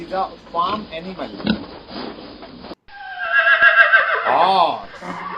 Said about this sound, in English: Horse. This is a farm animal.